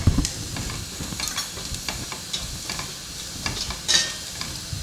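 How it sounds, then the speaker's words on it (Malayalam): Turmeric powder stirred into onions frying in a pan for chana masala, with a steady sizzle and hiss under repeated scraping stir strokes, close and fairly loud, with no talking. "ആദ്യം തന്നെ ഞാൻ മഞ്ഞൾപ്പൊടി ചേർത്ത് കൊടുക്കുകയാണ്."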